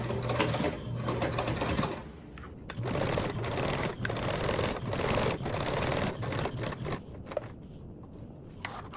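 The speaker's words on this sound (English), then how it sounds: "I'm going to sew it at an angle and then continue on with my regular straight seam." A sewing machine runs steadily while sewing a seam at an angle, a close, continuous whirring stitch with a few brief pauses and bumps, and no talk.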